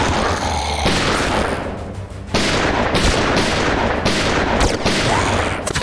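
Several loud gunshots crack out in quick succession in the VR shooter Operation Serpens, bursts separated by short gaps, close and alone without talk.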